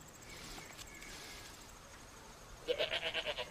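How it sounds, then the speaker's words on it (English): A female goat in heat, kept apart from other farm animals, gives a short, close bleat near the end after a quiet stretch with faint insect chirping. "Is that your goat?"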